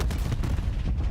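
Grenade and gunfire sounds from a Call of Duty League match, a dense, rumbling burst of booming shots and a low explosion packed into about a second.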